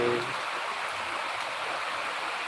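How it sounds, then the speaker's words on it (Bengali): Rain beginning to fall in Dhaka, a steady broadband hiss of falling water that stays even and continuous throughout, fairly faint with no voices. "বৃষ্টি শুরু হয়ে গেছে"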